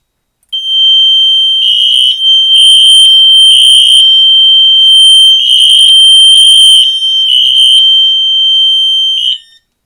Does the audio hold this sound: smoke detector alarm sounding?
yes